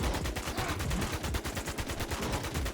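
Rapid automatic gunfire aimed at a boss in the game Infestation, a dense, evenly spaced stream of shots that stays loud and continuous throughout.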